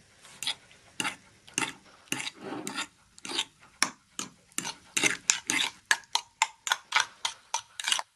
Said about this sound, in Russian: В соус добавляем яйцо, И хорошенько перемешиваем